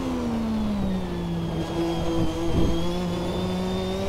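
Lotus 98T turbo Formula 1 car under heavy fuel load, its engine revving through the lower gears with wheelspin; a steady, loud, droning engine note that dips and climbs, with a brief rough burst partway through, no talking.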